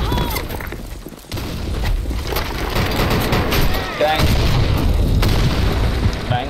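A loud, boomy grenade blast in the BlackShot Revolution shooter rolls into continuous heavy rumble and scattered gunfire, while someone talks over the battle noise.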